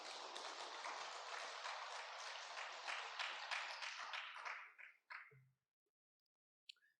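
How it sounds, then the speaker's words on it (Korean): A church congregation applauds in encouragement during a Sunday sermon, steady dense clapping that fills the room for about five seconds, then thins out and stops, leaving near silence with a faint click near the end. "일본이 잘 승리하라고 다시 격려의 박수 한번 부탁드리겠습니다."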